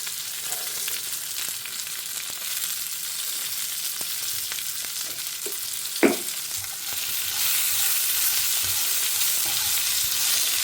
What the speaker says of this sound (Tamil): இப்போ வெங்காயம் வதங்கின்னு இருக்கு.